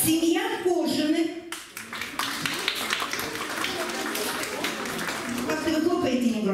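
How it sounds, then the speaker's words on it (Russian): Audience applause at a family festival award ceremony, a moderate, steady patter of clapping from a crowd that runs under a voice speaking over a microphone at the start and again at the end. "Как-то вы хлопаете негромко."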